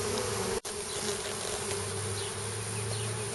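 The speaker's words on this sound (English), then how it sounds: "Just spotted a whole different clump here of bees." Swarm of honeybees buzzing loudly and continuously up close outdoors on a hot day, a dense steady hum with no talk.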